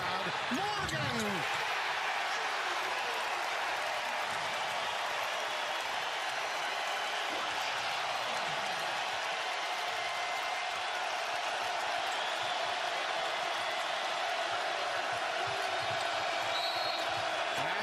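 A loud, steady crowd roar fills a college basketball arena during a game, with a commentator talking over the dense, continuous noise throughout.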